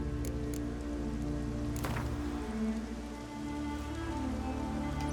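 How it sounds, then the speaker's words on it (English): Steady rain in The Witcher 3: Wild Hunt, a continuous hiss of drops on surfaces running throughout beneath a low musical drone, with no voices. "Needed a spot of rain."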